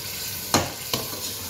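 Boiled chickpeas frying and being stirred in a pan for an instant chana pulao, a steady sizzle with two sharp scraping stir strokes close by.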